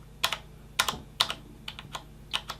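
Individual keys pressed one at a time on a computer keyboard, a single key tapped repeatedly, giving about eight crisp, close clicks in an uneven rhythm with nothing else around them.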